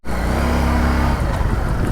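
A Harley Davidson Street 750 motorcycle engine gets a burst of throttle, a loud close rumble with a steady low throb that holds and then eases off slightly.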